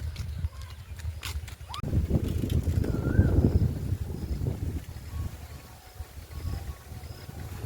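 Strong afternoon wind roars and buffets the microphone in a steady low rumble that swells through the middle, with gusts rising and easing.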